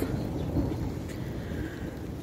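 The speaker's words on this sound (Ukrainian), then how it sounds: "Ось десь із сторони Києва, знов десь гримить до нас." Low, rumbling thunder rolls far off, muffled under steady wind noise.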